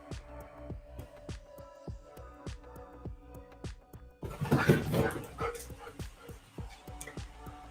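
Puppies yipping and barking in quick, repeated bursts that keep going throughout, with a louder, busier stretch in the middle.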